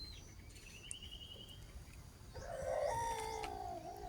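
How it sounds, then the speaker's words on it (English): A rooster crows clearly and fairly close in the second half, while chickens and other birds chirp and cluck faintly before it against a quiet rural background. "The rooster chicken sounds."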